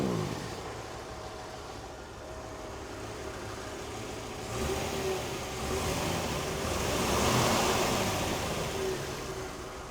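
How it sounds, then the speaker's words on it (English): A 1988 Land Rover 110 V8 idles with a low, steady exhaust grumble from the rear, continuous at moderate level with a slight swell toward the end, and no talk over it. "And a nice little grumble out of the rear."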